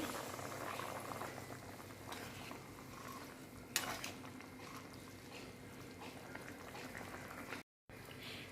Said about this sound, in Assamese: ইয়াত দেখিছে ধুনীয়াকৈ উতল আহিছে।